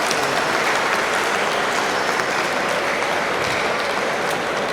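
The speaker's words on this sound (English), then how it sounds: "A round of applause" An audience at an inaugural lecture applauds, a dense, continuous wash of clapping that stays loud and even throughout with no talking over it.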